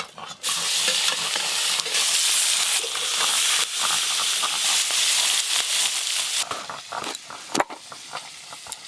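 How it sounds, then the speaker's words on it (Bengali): Koi fish frying together in a pan sizzle and hiss steadily at close range, broken by occasional stirring clatters and scrapes, with no voices. "এই যা মাছ আছে এইগুলো সব একসঙ্গে ভাজা হয়ে যাবে"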